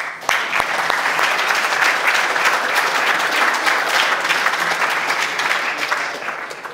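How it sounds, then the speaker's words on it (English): Conference audience at NetDevOps Days London applauding speaker Rick, a few sharp opening claps followed by a full, sustained round of clapping that tapers slightly at the end. "Let's get a big round of applause for Rick then"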